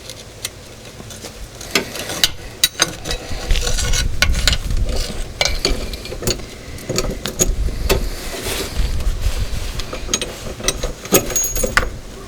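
A socket wrench ratchets in quick, uneven bursts of metallic clicks while tightening a bolt on a truck, close up, with clanks of tools and handling between runs.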